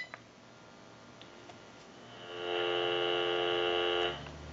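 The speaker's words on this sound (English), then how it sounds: "Give you some dial tone." Dial tone from a General Electric 27909 cordless telephone under repair: a steady electronic tone starts after a couple of seconds of low hum, holds evenly for about two seconds, then cuts off.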